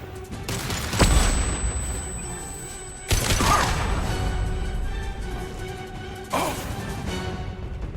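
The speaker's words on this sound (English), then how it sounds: "Watch out, flashbangs!" Flashbang grenades going off in the Mass Effect 2 video game: three sharp bursts that ring out into a loud, noisy wash, one after another over a steady high tone and background din.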